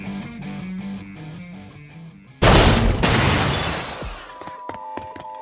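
Explosions in the video game Honkai Impact 3rd, where a sudden loud blast bursts in after a stretch of game music, then a crackling, rumbling decay trails off over a couple of seconds before lighter musical tones return.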